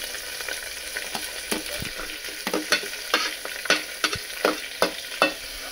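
Garlic, then green chilli and onion, frying in a pan for homemade sambar rice, with a steady sizzle under a series of sharp, rhythmic scraping stirs that grow louder toward the end.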